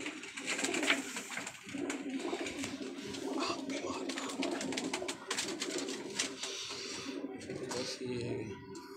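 Golden teddy pigeons coo softly and continuously, blended with someone talking over them and some background shuffling.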